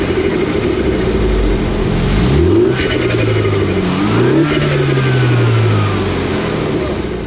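A Mini Cooper JCW F56 engine fitted with an aftermarket intake revs up and falls back in a couple of swells, its steady close drone rising and dropping in pitch, with a possible faint voice underneath.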